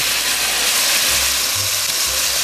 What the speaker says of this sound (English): our meat is sizzling away